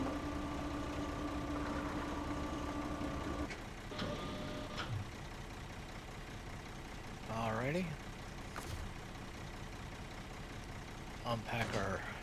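A truck engine idling in Snowrunner, a steady low rumble for the first few seconds, then quieter vehicle and game noises with short tonal beeps, as a person talks over it.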